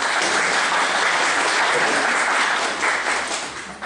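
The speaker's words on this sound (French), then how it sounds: "Vous pouvez les applaudir." An audience at a staged performance bursts into steady, dense applause that stays loud for several seconds before tapering off at the end.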